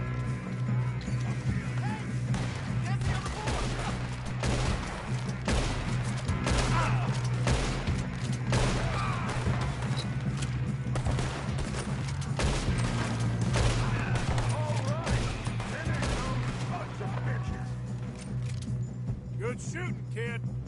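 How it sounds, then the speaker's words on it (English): Red Dead Redemption 2 gunfight with dense, continuous gunfire crackling over a steady low hum and game ambience, with voices murmuring underneath throughout. "Good shooting, kid."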